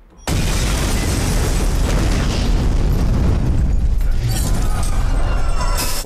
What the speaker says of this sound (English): that was definitely CG explosion